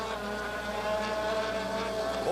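Nigel Mansell's Formula 1 car from the 1986 Brazilian Grand Prix roars, a steady high whining engine drone with stacked tonal harmonics, sustained and even for a couple of seconds with no speech.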